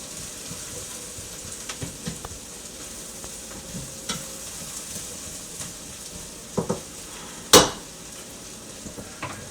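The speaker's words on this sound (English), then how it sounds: "I am sauteing the rice to give it a little toastiness." Rice sautéing in a pan for risotto gives a steady, quiet sizzle with occasional soft stirring scrapes and one sharp metallic clank near the end, close by and without speech.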